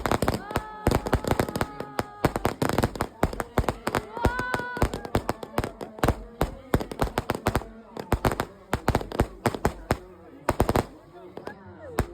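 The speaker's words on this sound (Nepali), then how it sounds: "अहिले चाहिँ बम पड्काउनु भइरहेको छ पड्काउन लाग्नु भएको छ" Firecrackers burst in dense, rapid volleys at a Mangsebung festival, with sharp cracks and rattling strings of bangs close by and voices heard faintly under the din.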